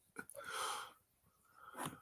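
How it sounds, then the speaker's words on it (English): A neighbor's sneeze heard from a distance, quiet and brief, with a sharp burst near the start and another at the end over a soft background. "Our neighbor just sneezed."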